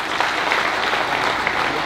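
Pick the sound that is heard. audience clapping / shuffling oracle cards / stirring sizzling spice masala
audience clapping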